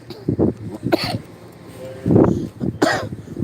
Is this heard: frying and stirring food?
no